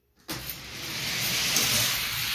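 Hot Wheels toy cars, including a Hershey funny car and a black Ferrari, race down a track: a sharp release, then a steady rushing whir of wheels that builds and holds.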